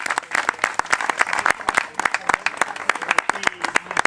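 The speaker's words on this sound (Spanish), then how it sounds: "debemos aplaudir otra vez" An audience applauds after a poetry reading, many hands clapping densely and steadily at close range for a few seconds, with a voice speaking over it.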